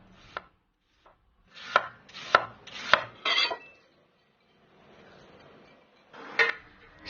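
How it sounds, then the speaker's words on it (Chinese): A knife slices peeled Chinese yam on a cutting board in a series of sharp close chops, a handful of quick strokes, a pause, then one more cut, with no talk. "再给它切成片"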